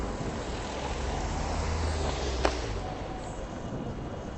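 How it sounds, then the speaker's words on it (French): Wind blowing outdoors at night during a cold evening gathering, a constant broadband rumble of gusts buffeting the microphone with a brief knock partway through. "Il y a un peu de vent en plus"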